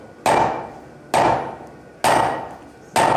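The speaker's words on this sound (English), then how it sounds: "Go ahead and just start hammering away again." Hot metal is hammered at a blacksmithing conference, four loud, ringing strikes spaced about a second apart, each fading before the next, with no talking.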